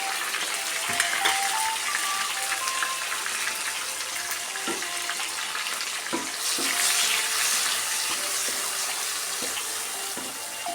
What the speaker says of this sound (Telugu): వేగాలి పచ్చివాసన పోయేటట్టు వేగాలి